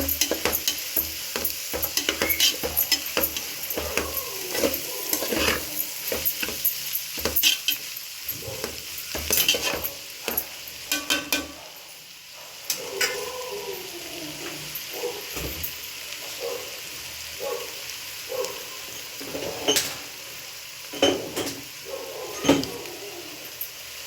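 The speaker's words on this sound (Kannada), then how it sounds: "ಆವಾಗಲೇ ಹುರಿದಿಟ್ಕೊಂಡಿರೋಂಥ ಮೊಟ್ಟೆ ಒಂದು ಸತಿ ತರಕಾರಿ ಒಳಗಡೆ ಹಾಕ್ಕೊಂಡು ಫ್ರೈ ಮಾಡ್ಕೋಬೇಕು" Pre-fried egg and chopped vegetables being stir-fried in a pan for egg fried rice, with sizzling and repeated sharp scraping clatters of a spatula on metal, close and intermittent, briefly quieter midway.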